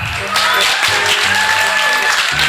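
Wedding guests clapping for a couple at a celebration, a dense burst of applause running through the whole moment with a voice and background music underneath.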